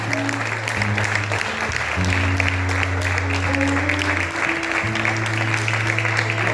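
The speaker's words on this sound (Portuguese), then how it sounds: "Dá uma forte salva de palmas para o Senhor Jesus." Steady applause fills a church service, a congregation clapping continuously, with sustained organ-like tones underneath.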